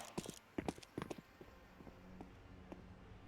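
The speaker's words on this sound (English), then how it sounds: "She'll raise the alarm as she hears the footsteps." Footsteps in a Valorant esports match, a few quick, close, crisp steps early on, then quieter game ambience.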